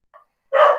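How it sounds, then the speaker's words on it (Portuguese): In a room, a dog lets out a faint short yip and then one loud, close bark, both brief. "Agora vem a trilha sonora dos cachorros, né, da sala."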